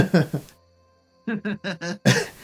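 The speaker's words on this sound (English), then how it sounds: "I must have coughed." A person coughs in short rough bursts at the start and end, with throaty vocal noises between them and a brief silent gap.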